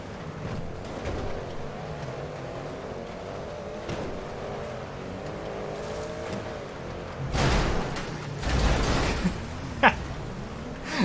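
Small car's engine droning steadily in GTA 5, tone wavering as it drives along, with louder rushing bursts near the end.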